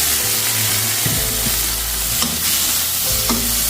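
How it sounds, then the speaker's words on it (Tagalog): Shrimp frying in a hot pan with garlic, onion and a little ginger make a loud, close, steady sizzle, with a few clanks of a spatula stirring against the pan and no talking. "Lagay na po natin yung ating hipon."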